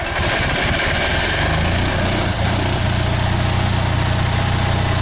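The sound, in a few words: generator engine running with HHO hydrogen generator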